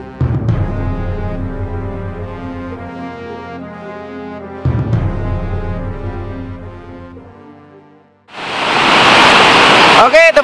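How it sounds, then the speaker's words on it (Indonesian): Steady broadband rush of plentiful river water flowing through a forest, loud and continuous with a brief dip before surging back even stronger near the end. "Nah, dengar, ini adalah suasana banyaknya air sungai"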